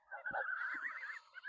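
Geese honking on a farm, a single faint, drawn-out nasal honk with a wavering pitch lasting just over a second, heard alone without talk.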